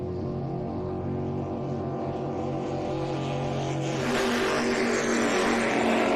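Offshore superboat racing on Lake Macquarie, a powerful engine drone held at a steady pitch, then swelling louder and brighter as the boat roars closer, continuous and heard from a distance over open water.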